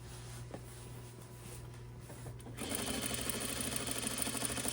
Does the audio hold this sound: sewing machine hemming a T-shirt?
yes